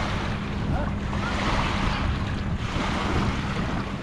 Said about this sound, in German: So we're getting a little bit of waves again.